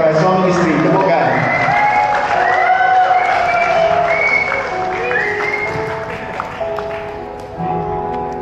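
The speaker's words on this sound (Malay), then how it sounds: "Tepukan." Wedding guests applaud a newly married couple seated on the bridal dais at a Malay reception, loud sustained clapping with cheering and crowd voices mixed with music throughout.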